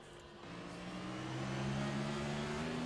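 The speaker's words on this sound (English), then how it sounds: "He downshifted, yeah." A race car engine in a Cup Series race at Auto Club Speedway drones steadily, its pitch shifting as the driver downshifts, a continuous moderately loud mechanical tone with no talking.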